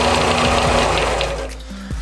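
A small inexpensive $80 shop sander runs steadily with a loud, continuous motor drone, then its tone dips near the end of the short stretch as it slows.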